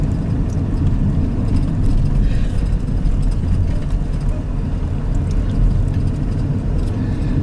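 A car driving along a dirt road near Interlachen, Florida: a loud, continuous low rumble of engine and tires from inside the vehicle, steady throughout with no talking.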